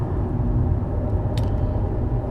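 Steady low droning hum and road rumble inside a 2008 Ford Falcon BF wagon while driving, suspected of a worn front wheel bearing, continuous and fairly loud with no talking.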